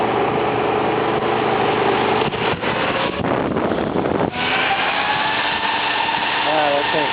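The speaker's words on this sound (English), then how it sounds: "I gotta turn on the computer and see if the fan starts spinning" A 2.5 amp computer cooling fan runs with a loud, dense, steady whoosh and whir, a few brief knocks in the middle and rising whining tones toward the end.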